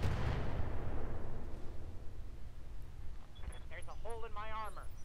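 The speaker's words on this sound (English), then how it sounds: "Wow, it took forever for that guy to fire." Heavy mech weapon fire in the Roguetech battle game, a loud booming blast that decays over a couple of seconds, followed by a faint electronic tone, with a voice talking over the later part.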